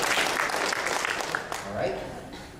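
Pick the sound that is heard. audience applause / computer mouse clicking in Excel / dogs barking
audience applause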